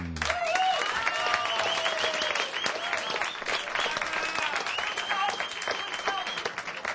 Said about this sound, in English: Let's welcome with a nice round of applause Martin Nielsen